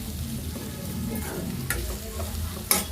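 Ivy gourd fries in a pan with coconut being added, a continuous sizzle under scraping stirs of a ladle, with a couple of sharper metallic knocks of the spoon against the pan.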